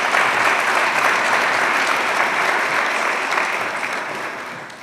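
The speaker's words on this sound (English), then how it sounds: "Please put your hands together for the oil industry." A large audience at a petroleum industry summit in West Kern applauding loudly, a dense wash of clapping that holds steady and then slowly fades.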